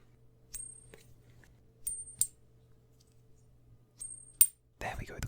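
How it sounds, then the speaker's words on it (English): A small metal coin flipped three times, each toss giving a crisp, bright ringing ping that trails off briefly, close and clear over quiet room tone, followed by a short scuffling rustle. "coin flipping might actually sound pretty good"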